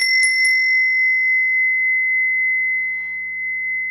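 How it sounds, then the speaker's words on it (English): A Balinese bell struck once, then a few quick follow-up strikes, leaving a clear, pure ringing tone that holds steady and bright for several seconds in a quiet room. "It's a Balinese bell, and I'm just going to ring it for you."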